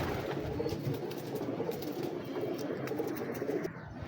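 Pigeons from a breeder's loft cooing, low soft repeated coos from several birds close by, with faint chirps and rustling over a steady background.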